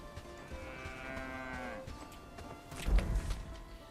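A cow moos in the video game Bellwright, one drawn-out lowing call followed by a brief thud, heard alone at moderate loudness.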